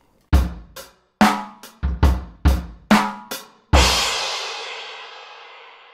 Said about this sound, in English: these equalizer settings now affect the whole drum kit